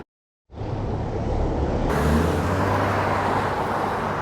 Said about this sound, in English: That car was like literally right next to me right here.